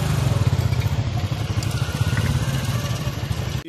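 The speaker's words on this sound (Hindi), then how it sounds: "उसके पीछे हम बाइक पे हैं" A motorcycle rides slowly behind a herd of goats at a livestock market, its engine putting out a loud, close, rapid chugging putter that stays steady throughout.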